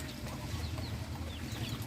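Chickens and a rooster cluck in a short, low, murmuring chorus from a flock kept alongside ducks at a farm, with no voices over it.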